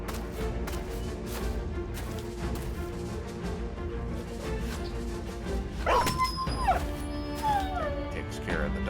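Dogs in the Battle Brothers video game yip and whimper amid a dense, steady layer of battle effects and music, with several brief rising calls near the end.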